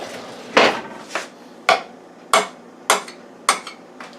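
In a kitchen, six sharp clanks of metal utensils and cookware ring out at a steady pace as items are put away and a spoon is fetched.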